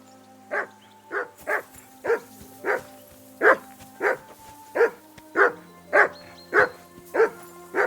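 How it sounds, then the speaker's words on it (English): A dog in the video game Kingdom Come Deliverance II barks loudly and repeatedly at an even, rapid rhythm, about a dozen sharp barks in a row close to the listener. "Henry, that barking's driving me nuts."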